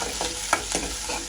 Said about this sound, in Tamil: வெங்காயம், பச்சை மிளகாய், கருவேப்பிலை போட்டு நல்லா வதக்கி விடுவோம்.